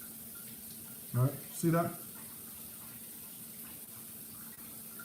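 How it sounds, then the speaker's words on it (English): Water running from a tap into a pressure cooker, a steady faint flow in a kitchen beneath a voice speaking briefly. "I'm just putting some water on the pressure cooker"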